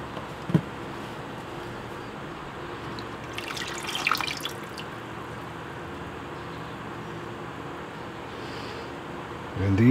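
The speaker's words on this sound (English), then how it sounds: "remove as much excess water as I possibly can before I get the process started" Water drips and trickles steadily as excess water is squeezed out of wet leather knife sheaths by hand, with a brief louder splash of wringing midway and a faint knock at the start and end.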